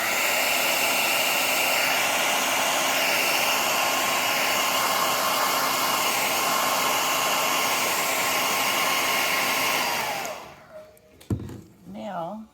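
A hair dryer blows a loud, steady roar for about ten seconds while drying gathered sinamay fabric, then cuts off, leaving brief handling noises and a short voice.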